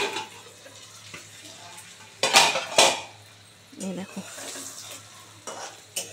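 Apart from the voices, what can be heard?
food frying in a covered pan, lid opened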